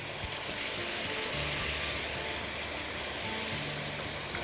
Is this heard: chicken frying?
yes